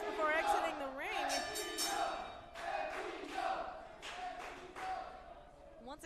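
Wrestling crowd at a T2T Academy Pittsburgh match cheering and shouting steadily, with loud bursts of roaring, while a commentator talks over it.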